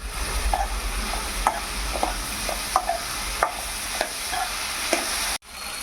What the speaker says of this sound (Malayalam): ശേഷം ഉരുളക്കിഴങ്ങും കൂടി ചേർത്ത് നന്നായി വഴറ്റിയെടുക്കുക.